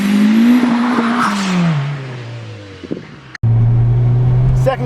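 Turbocharged Honda Civic coupe on a wet road, pulling hard in second gear with wheelspin: a loud engine tone drops and winds down, a brief dropout, then a steady droning pull resumes close by, with a voice talking over it.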